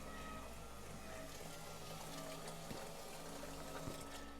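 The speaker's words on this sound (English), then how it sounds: "All of the water from the kitchen is going through this filtering system." Kitchen wastewater running steadily through a water filtering system into a storage unit, a constant low flowing and pumping wash with faint drips, even and unbroken throughout.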